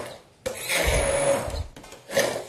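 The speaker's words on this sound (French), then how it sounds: "Donc on passe ça très rapidement au mixeur." A blender runs briefly, whirring through a pear dessert soup in two short loud bursts with a pause between them, close up.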